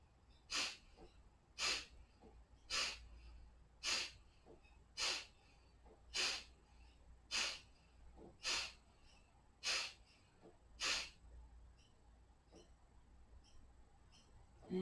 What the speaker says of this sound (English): 10 forced exhales through both nostrils